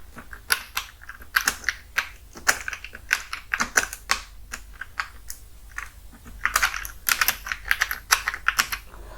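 Rapid clicking keystrokes on a computer keyboard, bursts of typing with short pauses between, close and clear with no voices.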